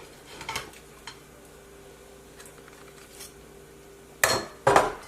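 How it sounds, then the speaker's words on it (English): Pieces of beef are dropped back into a pot of broth, with scattered clinks and scrapes of a utensil against metal and two louder clattering knocks at the end, over a quiet background. "we're going to put our meat back in"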